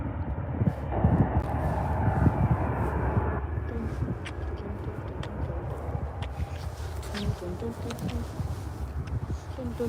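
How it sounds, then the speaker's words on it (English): An American Airlines jet landing at Dallas/Fort Worth airport in the early morning, a steady distant engine roar and rumble that runs throughout, with a voice talking over it. "We have some planes landing now"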